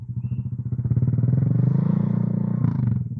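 A Honda Click 150i V2 scooter idles with a V-Lane aftermarket exhaust, a close, steady low burbling putter with an even pulsing rhythm throughout.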